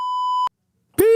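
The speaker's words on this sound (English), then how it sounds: "Beep." Censor beep: a pure electronic tone sounds for about half a second, cuts off to brief silence, then a voice resumes talking.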